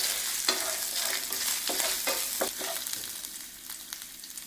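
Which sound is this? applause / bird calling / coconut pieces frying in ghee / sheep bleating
coconut pieces frying in ghee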